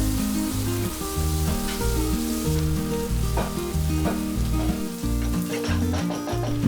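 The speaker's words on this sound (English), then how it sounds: "Then add 2 onions sliced and fry it until the onion is nice and soft." Sliced onions fry in a pan for a Bengali beef curry, giving a steady, fairly loud sizzle under music with a continuous low melodic line.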